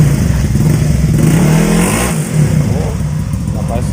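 A Honda PCX scooter accelerates hard during a 400-meter top-speed run in Thailand, its engine drone steady and loud throughout with a sustained rising tone.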